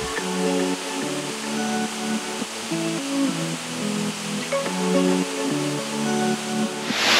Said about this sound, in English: We are the first ones here at this incredible waterfall.